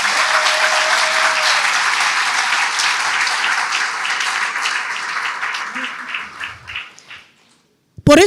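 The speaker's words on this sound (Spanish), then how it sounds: "Dale un fuerte aplauso al Señor" A church congregation applauds loudly and steadily for several seconds, then the clapping thins and dies away into near silence before a sudden new sound cuts in at the very end.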